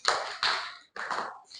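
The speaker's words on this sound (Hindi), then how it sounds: "ठीक है भाई, इसके लिए तालियां बजा दो।" Children clap a few times after a poem recitation, three short, quiet bursts of hand claps with a brief pause between them.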